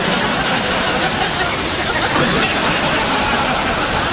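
Niagara Falls roaring nearby, a loud, dense, steady rush of falling water and spray filling the whole stretch with no pauses.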